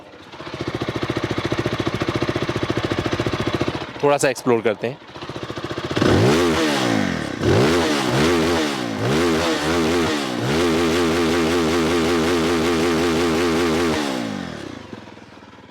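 Zontes 350 R motorcycle engine idling with a steady rough pulse, a brief blip, then several sharp throttle revs rising and falling before settling back, loud and close, with someone speaking briefly at the start.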